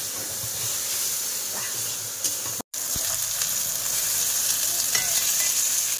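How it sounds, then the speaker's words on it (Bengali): Fish fries in a pan in a home kitchen, with a loud, continuous hiss and sizzle close up and a sudden brief dropout midway before the steady frying resumes. "আর এদিকে মাছ ভাজছি"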